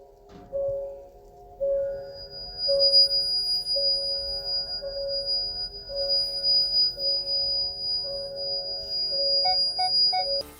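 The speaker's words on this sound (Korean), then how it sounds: "이게 스케일 노이즈라고 하는데요." Brake scale noise from rusted discs on a fourth-generation Kia Sorento hybrid: a thin, high squeal repeating roughly once a second over a low road rumble, with a few higher chirps near the end.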